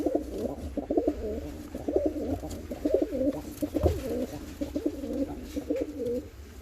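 Four large, never-flown homing pigeons coo close by, giving a rhythmic run of soft, throaty, rolling coos that repeat in short bursts with no talking.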